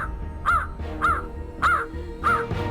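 A crow caws four times at an even pace, loud and close, each call a harsh nasal burst against quiet background.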